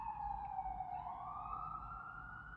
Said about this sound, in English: sometimes you can hear ambulances outside